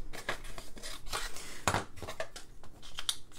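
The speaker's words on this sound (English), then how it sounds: "Now the fussy cutting." Scissors snip repeatedly through paper during fussy cutting, a quiet series of uneven crisp cuts and rustles close by.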